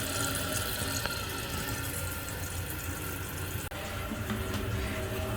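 Steady rushing of water filling a toilet tank, constant and close, with a faint click partway through.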